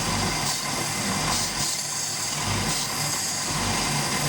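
A MerCruiser Alpha sterndrive engine runs at a steady idle while fogging oil is sprayed into it, a continuous near hum with a constant rough low drone and no talk.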